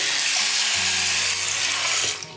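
Water pours steadily over laminated vinyl sticker paper in a continuous splashing rush, close and fairly loud, tapering off at the end, with no talking.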